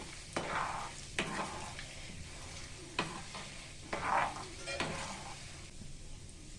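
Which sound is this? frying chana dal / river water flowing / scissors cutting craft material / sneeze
frying chana dal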